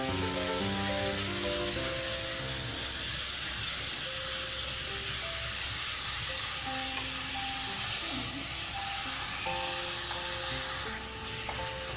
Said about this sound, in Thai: ค่อยๆไฟกลางๆแล้วก็ผัดไปเรื่อย ๆผัดไปให้น้ำตาลเราละลายนะครับ